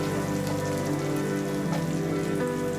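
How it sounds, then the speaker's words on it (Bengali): Chili paste frying in hot oil in a pan for a Bengali tilapia teljhal fish curry, a steady dense crackling sizzle that holds at an even loudness throughout, close up, with no talking. "মরিচটাকেও কিছুক্ষণ ভেজে নিব।"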